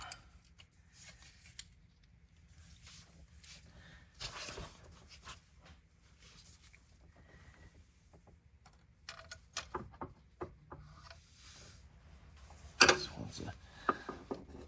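A ratchet wrench tightens spark plugs on a 2022+ Ford F-150 with the 3.5L EcoBoost, sparse ratcheting clicks early on, then quicker clustered bursts of clicking toward the end, close and fairly quiet.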